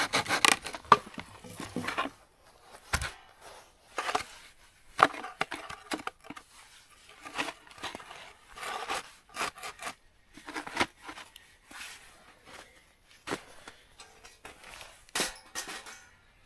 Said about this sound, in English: I'm just going to split this guy down in two